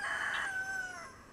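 A big pet turkey calls outdoors with a single clear, wavering high-pitched gobble-like cry lasting about a second, fairly close and alone.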